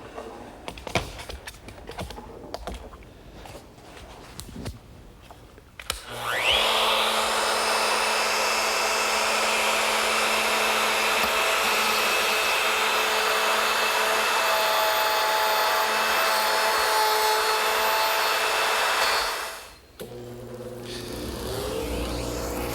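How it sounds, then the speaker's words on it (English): A router fitted with a half-inch straight cutter and a guide collar cuts a mortise in a butcher block rail, a loud sustained high whine lasting about thirteen seconds after scattered handling clatter, then spinning down. "against which this collar on my router will ride for the mortise cuts. I'm using a 1/2-inch straight cutter."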